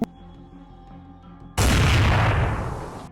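A single sniper rifle shot fired at a man inside a building during a tactical raid, arriving as one sudden loud blast with a long ringing decay, preceded by a quieter stretch.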